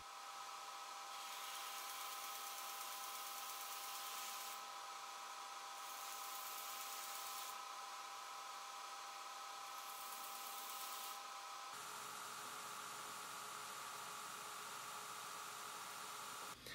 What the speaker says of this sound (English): I'll use Loveless's technique of shaping the palm swell with the large contact wheel